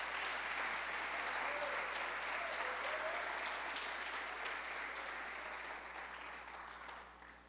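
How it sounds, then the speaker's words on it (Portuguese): A church congregation claps during a sermon, giving dense, sustained, fairly loud applause that fades slightly toward the end, with no speech over it. "Você nem aplaudiu o Senhor nenhuma vez"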